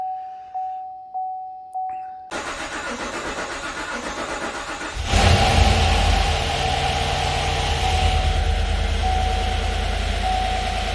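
An older car is cranked several times, catches and settles into a running idle that roughens and grows louder after a few seconds, a steady mid-pitched engine hum near and continuous.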